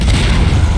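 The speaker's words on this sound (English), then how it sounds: "Explosions everywhere." A loud, deep explosion boom in the video game Half-Life 2, Ravenholme level, with a heavy rumbling low end filling the whole moment, close and overpowering.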